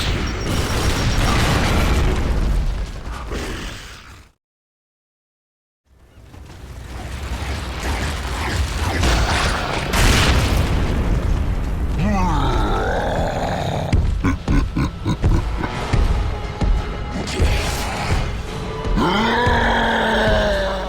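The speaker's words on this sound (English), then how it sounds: "Diggers are small burrowing creatures enslaved by the locusts for the use as an explosive projectile that are fired from the digger launcher." Gears of War 3 gameplay with digger launcher explosions: loud booms, bursts and grinding mechanical noise fill the stretch, broken by a brief total dropout, with creature grunts and swooping effects later.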